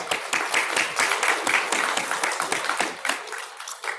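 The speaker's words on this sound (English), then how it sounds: "So, round of applause." Audience applause at a university IAP closing ceremony after an award is announced, a roomful of people clapping in a loud, continuous burst that thins slightly toward the end.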